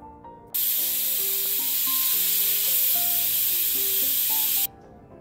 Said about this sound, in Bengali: এগুলোকে প্রেসার কুকারে দিয়ে আমি সেদ্ধ করে নেব